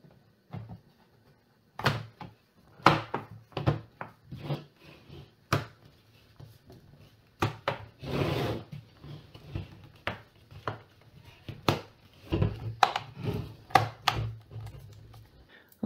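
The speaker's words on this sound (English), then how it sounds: "Snap the back cover into place." An HP Pavilion Gaming 15 laptop back cover is pressed and snapped into place, a series of sharp plastic clicks and knocks spread irregularly, close and fairly quiet, with light handling noise between them.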